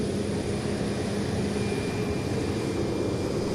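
A large airplane at Boeing Field runs its engines about 50 feet away, a loud, steady roar with a low rumble and a thin whine on top, continuous throughout.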